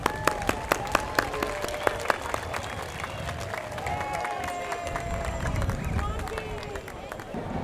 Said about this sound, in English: Round of applause for some of our youngest members joining the parade today.